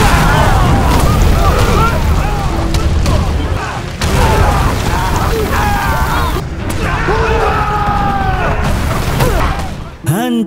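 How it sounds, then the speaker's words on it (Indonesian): Huge cannon shells exploding across a battlefield against troops, a continuous roar of heavy booms and rumbling blasts with layered crashes, loud and close, briefly dipping before a final surge. "Pasukan Chosun itu dihujani peluru-peluru meriam super besar yang sangat mengerikan."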